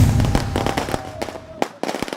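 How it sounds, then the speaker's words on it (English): Fireworks and firecrackers go off in a rapid string of sharp cracks and bangs, some near and loud, others softer, with a brief lull before a final burst of pops. "It's not even New Year's Eve when fireworks and firecrackers are at their grandest and loudest."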